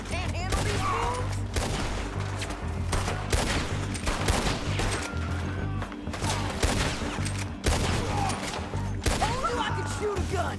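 A shootout in Red Dead Redemption 2 with rapid gunshots cracking in dense bursts, some close and loud and some farther off, over low background music, while people talk now and then between the shots.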